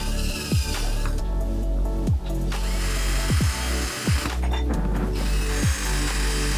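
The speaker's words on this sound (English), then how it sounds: "now I will enlarge these holes to pass" A drill enlarges screw holes in metal parts for a simple homemade room heater, loud and close, with repeated ratcheting, grinding bursts and short pauses as the bit is pushed in and eased off.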